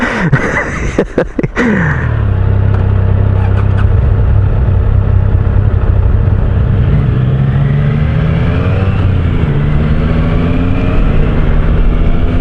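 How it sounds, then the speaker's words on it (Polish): A KTM motorcycle engine cranks with a few sharp starter bursts, then catches and settles into a loud, steady, close idle that keeps running throughout with slight rises in revs. "KTM odpalił"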